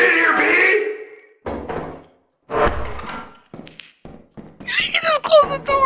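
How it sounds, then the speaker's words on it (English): A door slams shut in the video game Lethal Company, giving a short heavy thunk among bursts of excited players' voices talking over each other. "just closed the door on him"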